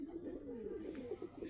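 Caged male pigeons such as Saharanpuri, Andhra and Shahjahanpuri birds keep up a continuous throaty cooing, several nearby voices blending into one warbling drone, with a possible faint voice underneath.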